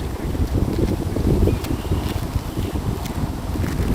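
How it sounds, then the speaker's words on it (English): Gusty outdoor wind roars loudly and continuously over the microphone, with brief crackles from the phone being handled. "It's kind of windy out here."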